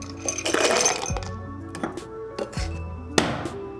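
Ice cubes go into a cocktail shaker while a honey and egg white koi pond cocktail is being made. Several separate clinks and clatters sound close by, with a sharper knock near the end.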